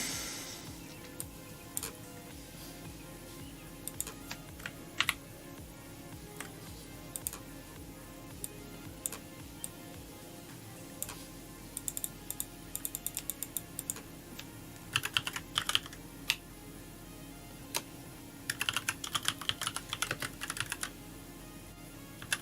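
Keys tapped on a computer keyboard in scattered single clicks and short quick bursts, close and clear over a low steady hum, with no voices.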